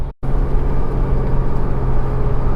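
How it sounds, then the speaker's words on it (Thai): Isuzu MU-X 3.0 diesel engine drones steadily and loudly as the accelerator is pressed, a deep continuous rumble after a brief cutout at the start, with no voices. "เสียงของกลุ่มพลังเมื่อเราแตะคันเร่ง"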